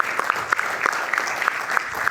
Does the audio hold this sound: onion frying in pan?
no